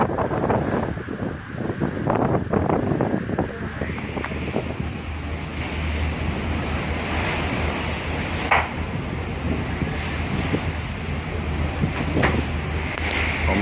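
Strong waves and gusting wind at sea off Merak, heading toward Sumatra under an overcast sky, a steady broadband roar with wind buffeting the microphone throughout and a few brief louder bursts.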